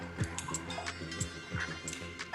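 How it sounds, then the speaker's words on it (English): A spoon stirs mint yogurt sauce seasoned with chaat masala in a bowl, giving soft, irregular wet clicks and taps close by, quiet and without voices. "we just need to give it a stir"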